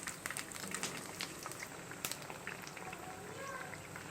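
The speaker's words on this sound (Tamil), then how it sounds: "அப்படியே மாற்றி மாற்றி போட்டு ஃப்ரை பண்ணி எடுத்துடலாம்." Pazham appam fry in oil over a low flame, giving a faint, steady crackling sizzle with scattered small pops throughout. A voice may murmur quietly underneath.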